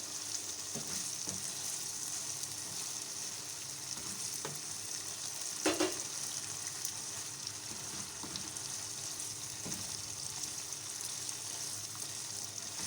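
Masala for chicken fry sizzles in a pan, a steady low frying crackle with occasional soft stirring knocks and one brief louder clatter, heard alone without talk.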